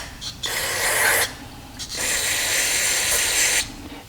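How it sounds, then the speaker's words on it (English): Brake cleaner is sprayed into the bore of a dirt bike brake caliper in two long hissing bursts with a short pause between them, close and loud. "So now I'm just going to take some parts cleaner, brake cleaner, and we're going to spray the inside of our bore."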